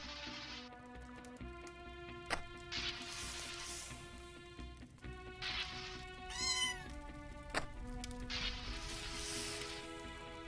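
Cat meows from the video game Nuclear Blaze, a firefighter platformer: repeated short mewing calls scattered over steady game music and effects, with no talking.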